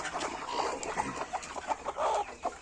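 Low, scattered clucks from a few native desi hens nearby, including broody hens, soft and irregular, with faint farmyard background noise.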